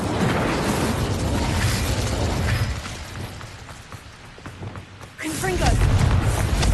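An Incendio fire spell cast in Hogwarts Legacy produces a loud, roaring whoosh of flame with bursting, crackling blasts. It fades into a lower rumble and then swells again, with game effects layered over it.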